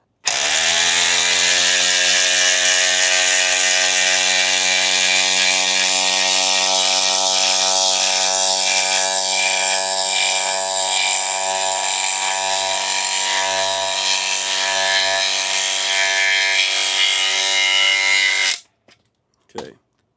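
A Milwaukee M18 Surge hydraulic impact driver drives a 3/8 by 6-inch lag screw into wood, whirring loudly and steadily for about eighteen seconds with a rapid, struggling pulse throughout before it stops abruptly.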